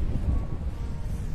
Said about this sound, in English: Wow, we have more wind.